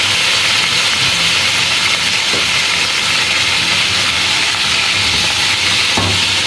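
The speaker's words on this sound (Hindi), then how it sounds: "ये चॉप किया हुआ लहसुन अदरक है, ये डाल के तो मैं फ्राई करती हूँ" Chicken fries with chopped garlic and ginger in a pan, giving off a loud, dense and unbroken sizzle close by, with a couple of faint stirring knocks.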